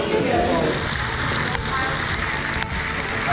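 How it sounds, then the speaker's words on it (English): Heavy rain pours steadily on a patio roof and ground during a stop on a Harley ride near Tombstone, Arizona, a dense continuous wash of sound with people's voices faintly mixed in. "Can you hear that rain? Can you see that rain?"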